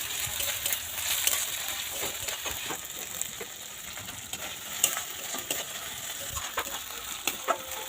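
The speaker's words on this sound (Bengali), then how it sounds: "এগুলো ভালো করে ভেজে নেবো।" Ginger and garlic paste fries in a pan with chopped onion, giving a continuous bright sizzle broken by frequent small pops and occasional scraping stirs.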